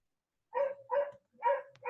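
A dog indoors gives four short barks in a quick, fairly even rhythm, close and moderately loud against near-silence, with no speech.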